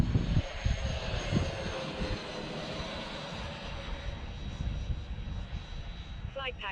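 Freewing F-14 twin 80mm EDF radio-control jet with afterburner flying overhead, a steady loud ducted-fan whine and rushing roar throughout, with a brief rising pitch sweep near the end.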